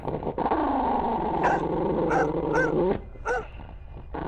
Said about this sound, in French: les chiens se mettent à grogner et aboyer sans raison